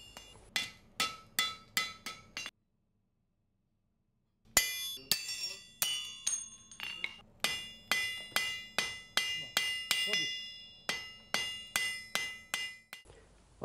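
A blacksmith hammers an iron wagon fitting for a Hungarian peasant cart in bright, ringing metallic strikes, fast steady runs of blows broken by a two-second pause, close and loud with no talking.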